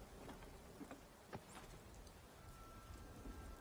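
Rain pours in Skyrim, the video game, as a constant low hiss of falling water broken by a few isolated drop-like ticks, fairly quiet and unaccompanied by any speech.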